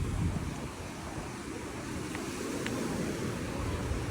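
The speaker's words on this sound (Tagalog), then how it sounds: "Saka malakas yung alon." Strong waves roll onto Boracay's White Beach during the habagat monsoon season. The surf roars low and constant, mixed with gusty wind buffeting the microphone.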